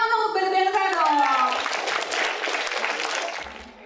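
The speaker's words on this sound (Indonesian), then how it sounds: "Tepuk tangan dong untuk BRI BNK dong." Audience applause breaks out at a brand webinar event after a voice in Indonesian finishes speaking over the start, a steady wash of clapping that slowly fades.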